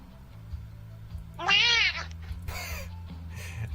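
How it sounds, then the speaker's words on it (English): A single loud, drawn-out cat meow rises and falls over a low background hum, followed by a couple of fainter rustling noises. "Just because funny cat noise."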